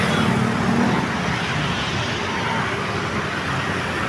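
Dense traffic noise from a long jam reaching to Merville: a steady wash of idling and creeping car, bus and truck engines nearby, with a low hum at the start and no talking.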